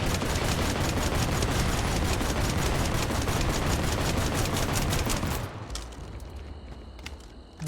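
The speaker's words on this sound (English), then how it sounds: "that's 30 HE rounds just pumped into this thing" Rapid gunfire of high-explosive rounds in Starfield, a loud, dense, continuous burst of shots for about five seconds, then cutting off into scattered fainter impacts and mechanical clatter.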